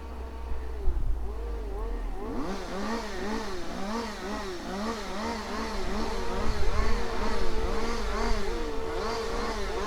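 Several distant chainsaws recorded outdoors in the field, their engines revving up and down frantically in overlapping wavering whines above a low background rumble, continuous and moderately faint.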